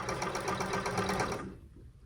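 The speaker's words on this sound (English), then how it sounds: "it's stitching the hem, and you can't see the stitches from the back, and it's catching really nicely." A blind stitch sewing machine hemming sheer drapes runs in a steady, close mechanical whir with a rapid stitching pulse for about a second and a half, then winds down and stops.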